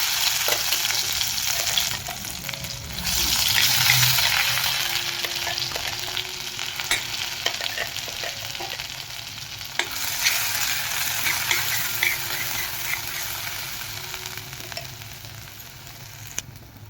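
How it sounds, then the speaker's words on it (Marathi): Ground masala paste frying in hot oil, a steady close sizzle with intermittent stirring scrapes and spatters, continuous and fairly loud with no voices. "इथं बघा मी आता चांगला मसाला परतून घेणार आहे"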